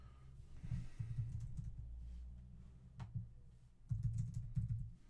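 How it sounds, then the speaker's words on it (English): Typing on a computer keyboard, close and fairly quiet, with bursts of soft clicks coming in uneven runs separated by short pauses over a low background hum. "Let's see if I can type that in for you so you can see it."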